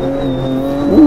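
Race car, a Porsche GTE, drifting slightly in Automobilista 2 on an American circuit, engine droning steadily with a rising tire squeal near the end, loud and close.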